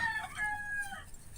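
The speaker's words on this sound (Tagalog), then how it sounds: "damo mga manok" Roosters and chickens on a farm with fruit-bearing trees: a near rooster crows in a drawn-out call while hens cluck softly underneath, no talking.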